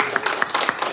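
Scattered clapping from a high school church congregation during a Sunday service, sharp distinct claps at a moderate pace, close and fairly loud with no voices over them.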